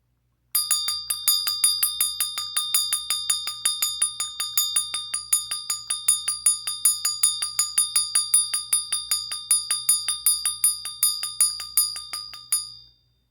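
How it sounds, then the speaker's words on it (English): A bright, high bell is struck repeatedly in a fast, steady rhythm, about twenty strikes, each ringing briefly before the next, then stops. "I'm going to ring the bell."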